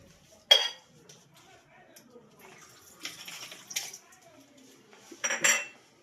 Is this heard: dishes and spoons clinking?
yes